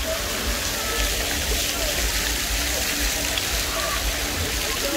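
A running shower at a water park hisses in a continuous, even spray of falling water, close and unbroken throughout, with no talk.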